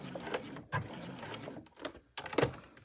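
A sewing machine runs in short bursts while topstitching and pivoting along the side of a tote bag, close whirring runs broken by brief pauses.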